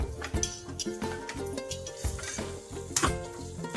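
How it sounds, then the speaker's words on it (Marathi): A spoon stirs a rava modak mixture of semolina and melted sugar in a pan, with quick rhythmic scrapes and metallic clinks repeating close up over a tonal background. "आणि परत एकदा मिक्स करून घ्यायचे"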